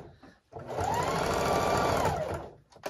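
A sewing machine stitches fabric in a home sewing studio, one steady whirring run of about a second and a half that starts and stops cleanly, close and fairly quiet.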